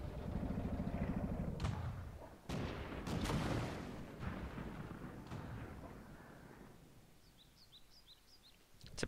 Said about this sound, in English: People are just randomly firing, hoping to hit somebody.